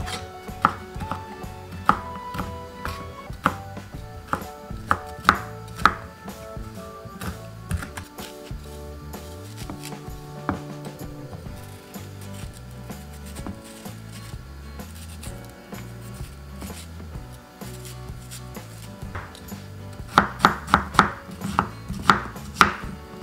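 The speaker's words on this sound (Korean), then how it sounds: "파프리카는 이 더덕 사이즈만큼 썰어주시면 돼요." A knife chops paprika (bell pepper) on a cutting board for a deodeok salad, a long run of quick, close, crisp taps in uneven bursts with some louder strikes near the end and no talking.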